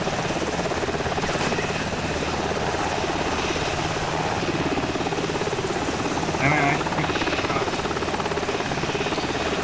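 A helicopter in the military game Arma 2 drones close and loud, its rotor thumping in a steady rapid pulse beneath overlapping voices of players talking.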